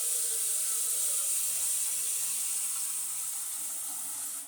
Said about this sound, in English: First of all, we're going to fill this pot with water.